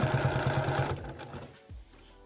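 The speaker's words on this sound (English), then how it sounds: "So I'm gonna keep sewing down." A sewing machine stitching quilt binding runs in a fast, even chatter, close and loud, then stops abruptly partway through, leaving a quiet fabric shuffle and a soft clunk.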